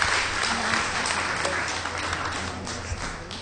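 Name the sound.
audience applause for award winner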